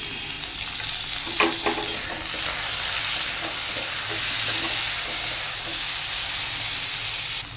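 Onions sizzle loudly and continuously in a pan with hot oil, a close steady crackle joined by a few brief scraping stir sounds early on, with no voices.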